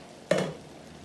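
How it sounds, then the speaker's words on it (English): Salmon, onions, green onions and garlic sizzle in a frying pan, with one short stirring hiss that bursts up and quickly fades to a low background. "our salmon, onions, green onions, and garlic have been cooking up for about 10 minutes"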